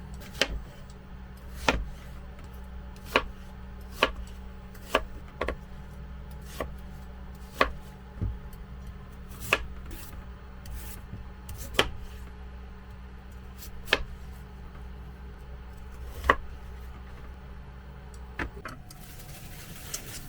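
Vegetables being chopped for Korean braised fish, a steady series of sharp knife strikes on a cutting board, spaced irregularly about a second apart, close and clear over a low constant hum with no talking.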